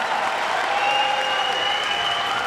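A large crowd at a Counter-Strike major playoff in London applauds and cheers steadily and loudly for a few seconds, a dense wash of clapping with no talking over it.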